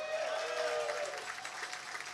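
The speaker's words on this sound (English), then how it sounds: "First of all, Greg, a round of applause." An audience at a Harlem Renaissance fundraising gala gives a short burst of applause, moderately distant clapping that fades within two seconds.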